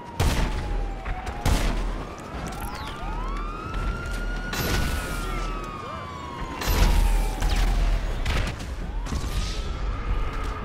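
Gunfire erupts in an online session of GTA V on PS5, sharp loud shots in scattered bursts over a wailing police siren and rumbling engine noise, with no talking.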